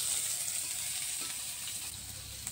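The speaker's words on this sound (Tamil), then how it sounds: "சீக்கிரம் வெங்காயம் வந்து வதங்கிறதுக்கு கொஞ்சம் உப்பு வச்சுருக்கிறேன்" Onions frying with salt in a pan for snail curry, a continuous dense sizzle with faint crackle, close and steady throughout with a small tick near the end.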